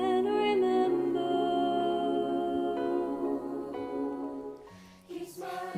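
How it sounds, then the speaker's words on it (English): Voices of an international online choir for the blind sing a sustained, gentle melodic phrase together, steady and moderately loud before a brief shift near the end. "That's the sound of Sing for Serenity Choir, an international online choir for the blind."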